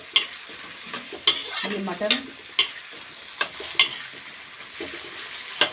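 Peas and tomatoes frying in a pan for pasta, a soft sizzle under repeated sharp scrapes and clinks of a spoon stirring at irregular intervals, with a brief spoken word.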